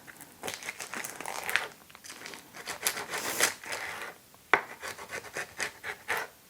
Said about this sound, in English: We're going to have to take our bacon, cut it in half.